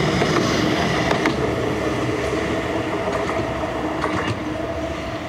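A tram's rail cars rumble along street tracks in Blackpool with occasional clicks and metallic squeaks, the steady noise fading slightly as the tram moves past.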